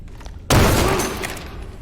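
Gunshot fired in the video game Grave/Diggers, a single sharp loud blast that breaks a quiet room tone and leaves a short decaying tail.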